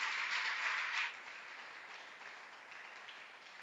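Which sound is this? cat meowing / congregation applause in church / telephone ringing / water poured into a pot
congregation applause in church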